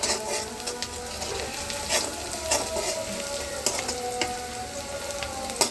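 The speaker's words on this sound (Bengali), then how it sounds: "পেঁয়াজটা লাল করে আগে ভেজে নিতে হবে।" Chopped onions sizzle steadily in hot oil, fried until reddish, with occasional stirring clinks and scrapes over the constant crackle; close and moderately loud, with no talking.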